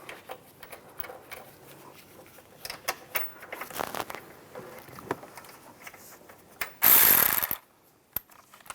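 Ratchet clicking as nuts are tightened on the side mirror of a 2007-2013 Chevrolet Silverado, with light mechanical handling throughout and one loud, fast burst of ratcheting near the end, close by.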